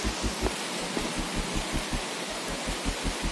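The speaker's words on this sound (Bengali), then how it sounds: "কেমন বৃষ্টি হচ্ছে তাই দেখেন।" Steady rain falls with wind outside a village home kitchen, a dense even hiss with a regular low thumping pulse underneath, no voices present.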